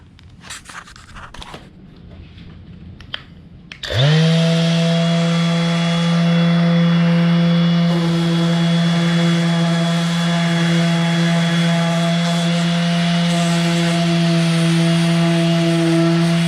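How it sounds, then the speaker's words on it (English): A power sander grinds over a butcher block wood top, smoothing the corners. It kicks in abruptly after a few seconds of quiet and holds a loud, steady, droning whine close up to the end. "just sanding off the corners here and making it be super smooth and ready for the top finish"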